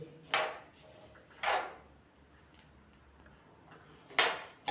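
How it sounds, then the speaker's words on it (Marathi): Coriander seeds dry-roast in a pan, with three brief bright rattling scrapes as they are stirred, separated by quiet stretches. "अशा पद्धतीने इथं धने आपल्याला भाजून घ्यायचे."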